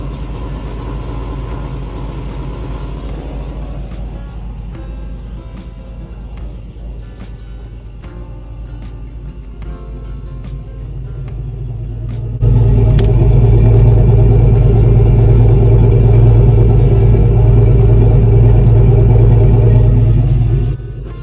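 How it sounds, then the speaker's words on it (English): A car engine with an exhaust leak at the collector runs with a low rumble and a ticking, puffing exhaust note, then grows abruptly louder and heavier midway through, holding steady. "I do have an exhaust leak here at the collector up there"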